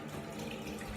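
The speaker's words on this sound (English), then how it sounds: "And then I'm going to wash my hands in Chlorhex and water." Hands washed with chlorhexidine under a running tap, a steady close splash of water streaming into a sink for a short moment, with no voices.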